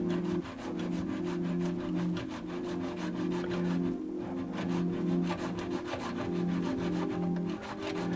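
A hand saw blade rasps back and forth through a garbage disposal nut in a steady rhythmic scrape, close and continuous with a grinding, slightly tonal edge and no talking.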